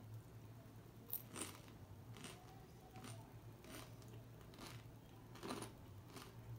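Crunchy cream-filled puff pastry from Carlos Bakery being bitten and chewed, giving soft, crisp crunches in irregular bursts spread across a quiet background.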